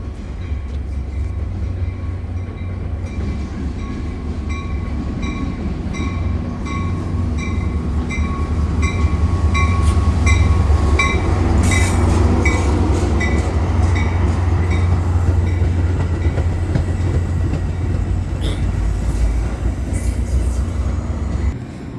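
A Metra commuter train, locomotives 401 and 513, rolls past the Western Ave station with a steady loud rumble and wheel clatter that swells mid-pass, with no talking.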